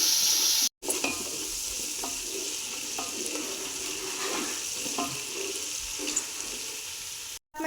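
Curry leaves, green chili paste and ginger-garlic paste sizzling in hot oil in a pan, stirred steadily with a spoon; a continuous close frying hiss with scraping strokes, no talking.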